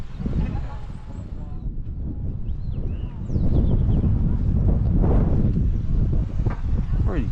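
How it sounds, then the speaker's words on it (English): Strong breeze buffeting the microphone outdoors at an autojumble swapmeet, a loud continuous rumbling roar that grows heavier partway through, with faint background sounds beneath it. "Really breezy today."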